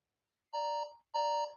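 Two bright electronic timer beeps, evenly spaced and loud, mark the close of a 10-second quiz countdown, with silence before and between them.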